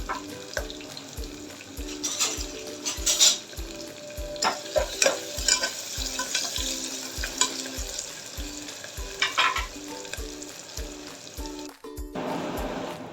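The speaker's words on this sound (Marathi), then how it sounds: "एक उभा चिरलेला कांदा मस्त मिक्स करून घेऊया" Sliced onion frying in a pan with crushed ginger and garlic, a steady sizzle under repeated scraping strokes of a stirring spoon, close and continuous, with a brief splash of water near the end.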